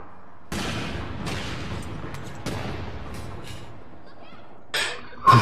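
Scattered gunshots from a PDW in APB Reloaded: a handful of separate cracks spread across several seconds, with quieter stretches between them and a sharper, louder shot near the end.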